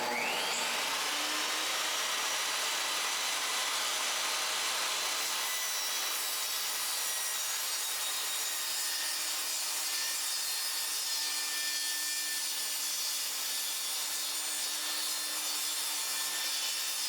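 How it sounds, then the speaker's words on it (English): A table saw rips through wooden planks with a continuous, steady, hissing whine that holds throughout, close and loud with no speech. "I use a table saw to rip all the planks to an even width"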